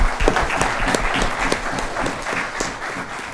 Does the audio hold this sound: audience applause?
yes